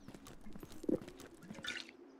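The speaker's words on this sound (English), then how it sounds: "Let's drink some water." Water being drunk in the survival video game Zero Sievert: a short in-game sequence of soft gulping, liquid sounds with a brief splashy burst midway and a fainter trickle after, heard alone.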